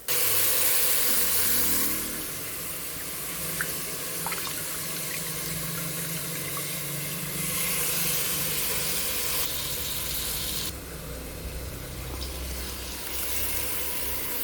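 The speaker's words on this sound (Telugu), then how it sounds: "ఇలా రైస్ వేసుకొని ఫ్రై చేయాలండి ఒక 5 మినిట్స్." Rice frying with masala in a pan for kichidi, a continuous loud sizzling hiss that swells and eases in stages, with a few faint clinks and no voices.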